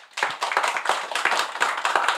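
A lecture audience at a hotel talk on the Tadami Line gives hearty applause to welcome the speaker, close, rhythmic clapping that swells quickly from quiet and stays strong, with pulsing bursts.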